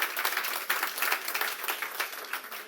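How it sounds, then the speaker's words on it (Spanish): An audience bursts into sustained applause during a conference session, many hands clapping in a dense, steady wash that carries on evenly throughout. "Yes, it's worth clapping."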